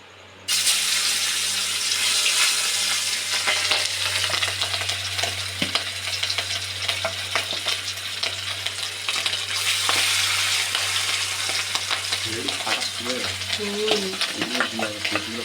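Fish frying in hot oil, a steady loud sizzle and sputter close by running throughout, with occasional scraping stirs and a brief tap-water sound near the end.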